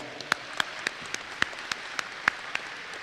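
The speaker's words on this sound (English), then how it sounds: "let's give Dallas County another round of applause." Sparse, scattered hand claps from a small banquet audience at a Texas DOT safety awards banquet, a few distinct claps spaced irregularly over a low room murmur.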